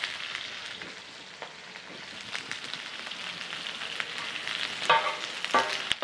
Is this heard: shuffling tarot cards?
no